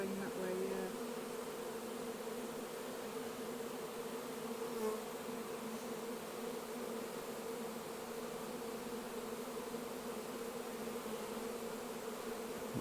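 A swarm of honey bees drones in a steady, dense buzz that fills the air evenly throughout, fairly faint and continuous, with a brief murmur of voices near the start.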